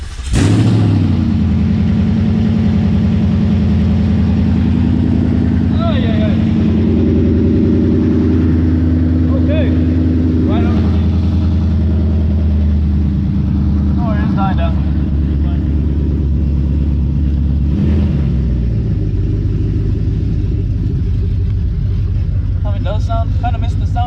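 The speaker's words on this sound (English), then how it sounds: "So let's get a little cold start." A Ford Mustang fitted with aftermarket headers cold-starts and idles with a loud, deep rumble throughout, and voices talk intermittently over the steady exhaust drone.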